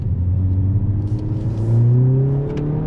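A 2020 Honda Civic Si accelerates on throttle out of a roundabout. Its engine note climbs smoothly and steadily in pitch over about three seconds, close and clear with no talk.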